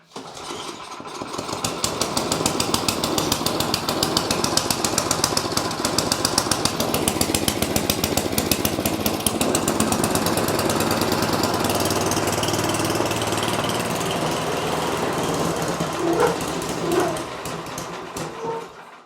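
A John Deere 828D snowblower engine sputters to life and settles into a loud, steady running chatter with a fast mechanical rhythm, close by and continuous for the whole stretch.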